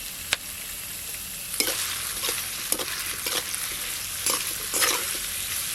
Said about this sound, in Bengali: পেঁয়াজ আর ক্যাপসিকাম ভালো করে একটু ভাজা হয়ে গেল